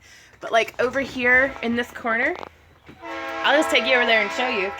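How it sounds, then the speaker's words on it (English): A passing train sounds its horn in a sustained, steady blast behind a person talking indoors, the horn swelling in during the second half and mixing with the continuing speech. "Sorry about the train."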